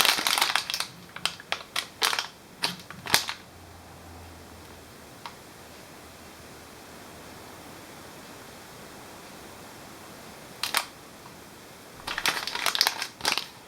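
A package of ground coffee for a Bialetti Moka Express is handled and crinkled in bursts near the start and again at the end, with a quiet pause in between, close and crisp.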